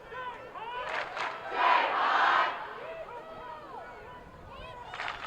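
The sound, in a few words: Jesuit fans cheering at a lacrosse final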